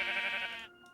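A sheep in the Minecraft mod TerraFirmaCraft lets out a single short, quiet bleat that cuts off abruptly, with nothing else audible.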